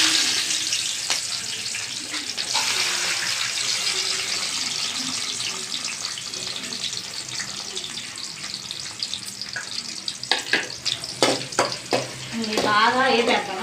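Onions, green chillies and leaves frying in oil for chicken curry, a continuous sizzle with some clatter and scraping near the end, and a voice briefly heard over it.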